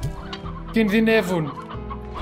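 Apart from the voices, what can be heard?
chickens clucking in the video game Slime Rancher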